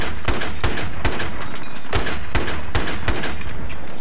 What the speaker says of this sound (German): Ich schieß auf den Panzer!